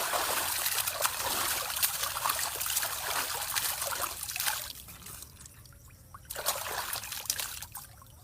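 River water flows in a steady, close trickling rush that dips briefly quieter midway before swelling again, with no voices.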